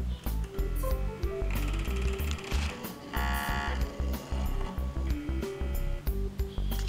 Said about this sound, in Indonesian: Dan printer pun mengambil posisi standar di tengah-tengah seperti itu